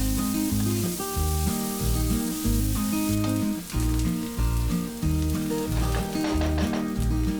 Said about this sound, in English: add 2 onions chopped and fry the onion until it is nice and soft